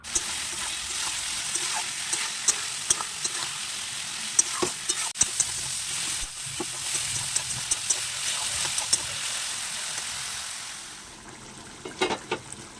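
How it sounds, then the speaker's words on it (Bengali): Prawn curry with potato and cauliflower simmers in a pan with a little water, giving a soft, constant bubbling hiss close by, while a spoon scrapes and taps the pan in irregular strokes. "এখানে কষিয়ে হালকা জল দিয়ে দিয়েছি, বেশি ঝোল ঝোল করবো না"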